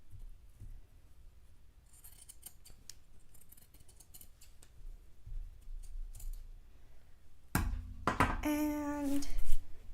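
Scissors snip and cut through fabric for a Jedi robe. Quiet handling comes first, then louder crisp cutting strokes near the end, close by and with no talk.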